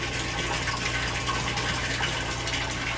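Water in an aquaponics setup with an IBC tank gives a steady, continuous gushing and filling rush with a low pump hum underneath, loud and close.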